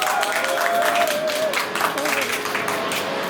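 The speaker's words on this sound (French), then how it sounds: "je vous demande encore d'applaudir pour lui parce qu'il est trop fort" Audience applause and cheering for Rodzine at the GSTOREMUSIC d'Or award ceremony, continuous crowd clapping with voices and a faint tonal sound mixed in, steady and moderately loud throughout.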